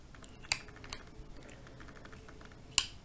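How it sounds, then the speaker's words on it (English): Small clicks and taps from handling a Zippo lighter with black parts, with two sharper, louder clacks of the lid closing, muted rather than ringing, heard close and alone. "It has this kind of clunk, not the ding that you expect from the lighters."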